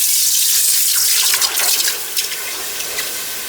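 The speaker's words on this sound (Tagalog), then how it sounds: "ilagay nyo na ng tubig" Water is poured into a pot for boiling, about two liters, a loud, steady splashing gush up close that eases and thins toward the end.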